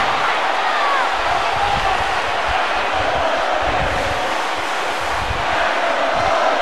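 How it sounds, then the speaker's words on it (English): A wrestling crowd roars and chants inside an arena, a dense, loud, steady wash of voices filling the whole stretch without letting up. "Crowd chanting for Rio here tonight."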